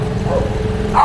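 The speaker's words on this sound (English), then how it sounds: "With the little street dogs chasing us." Small street dogs in a city in Laos give a short burst of barks close by, with no voices over it.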